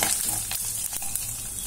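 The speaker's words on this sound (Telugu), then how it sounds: "ఇందులో పోపు దినుసులు వేస్తున్నాను." Tempering spices such as mustard seeds, cumin and split lentils sizzle and crackle loudly in hot oil for a bitter gourd fry, a steady close frying hiss with light stirring.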